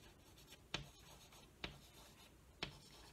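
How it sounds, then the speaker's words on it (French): A pencil or pen draws on paper, making faint scratchy rubbing strokes with three sharper taps spaced about a second apart, close and quiet, with no voices. "Pour les petits, tu vas devoir dessiner."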